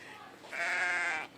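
A sheep bleats once in a garden, a single sustained nasal cry lasting under a second, fairly close and heard alone.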